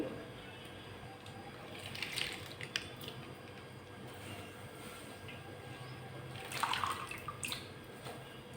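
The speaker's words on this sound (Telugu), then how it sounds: "ఇప్పుడు కడిగి వేద్దాం. ఇలా శుభ్రంగా కడుక్కొని, ఇది పాలకూర అండి." Spinach leaves being washed by hand in water, heard as soft, close splashing and sloshing, with brief louder swishes near two and nearly seven seconds over a faint steady background hum.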